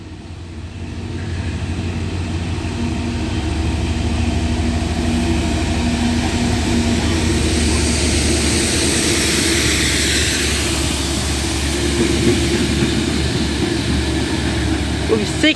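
Class 66 diesel locomotive 66722 passing through a station platform, a steady loud engine drone with rumbling rolling noise that swells slightly toward the end, continuous and fairly close.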